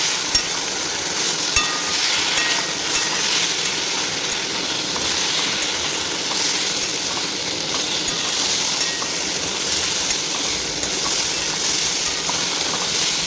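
Spices with chili powder, ginger-garlic paste and turmeric fry alongside potatoes in a pan, giving a steady broadband sizzle with faint stirring scrapes throughout, close and continuous with no talking.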